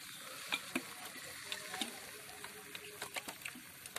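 Freshly sown seeds are watered at home: a soft, quiet trickle of water with a few faint drips and splashes scattered through it.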